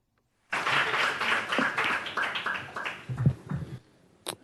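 An audience in a state legislature hearing room claps for about three seconds, a loud, dense round of applause that starts abruptly and then thins into a few scattered claps.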